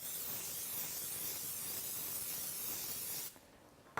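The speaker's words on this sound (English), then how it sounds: "take a large baking dish and lightly spray it with a cooking spray to keep it from sticking" Pam olive oil cooking spray hisses steadily into a large baking dish in one long, close burst lasting over three seconds, then cuts off abruptly into near silence.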